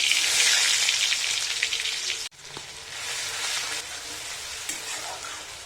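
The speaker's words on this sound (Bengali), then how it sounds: "তেল গরম হয়ে গেছে, এর মধ্যে দিয়ে দিচ্ছি দুটো তেজপাতা, 1 চামচ রসুন বাটা" Two bay leaves and a spoonful of garlic paste hit hot mustard oil, bursting into a loud crackling sizzle that dips sharply for a moment, then settles into a steadier, softer frying hiss.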